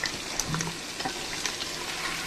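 Onion and tomato sautéing in a pan for Hyderabad-style chicken biryani, a soft steady sizzle with faint scraping stirs and light clinks, close and fairly quiet.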